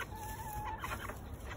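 A rooster and hen cluck softly at a poultry yard, giving a few short, faint clucks and low chicken calls in a quiet moment with no talking.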